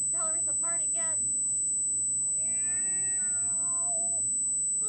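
A cartoonish cat meows in the Fran Bow adventure game, one drawn-out mewing call sounding clearly over a steady background hum after a brief burst of speech-like sound.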